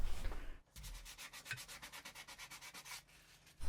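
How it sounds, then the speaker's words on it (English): Wood being hand-sanded before a finish goes on, a steady run of rapid rhythmic rasping strokes after a brief louder scrape at the start, close and alone with no talk. "A few minutes of sanding and apply a finish, ready to hang on the wall."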